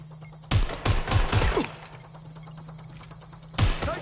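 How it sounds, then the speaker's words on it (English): Gunfire in the video game Watch Dogs Legion: several sharp shots in a quick burst, then a lull and one more loud shot. A steady electronic hum runs under it. "Taking fire!"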